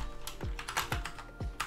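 Quick bursts of keystrokes on a computer keyboard, a new model not yet on sale, clicking in short irregular clusters at close range with no speech.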